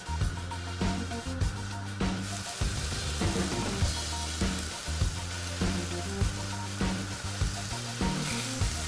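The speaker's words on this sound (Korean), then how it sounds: "달궈진 냄비에 들기름을 넣고 미역을 볶습니다." Seaweed sizzles in perilla oil in a hot pot, a steady frying hiss broken by repeated stirring scrapes and clatters at a regular rhythm.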